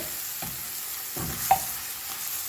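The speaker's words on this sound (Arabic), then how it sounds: "اقلب بس الجنزبيل والثوم كده ايه ياخد الريحه" Ginger and garlic sizzle quietly in a pan while a utensil stirs and scrapes them a few times.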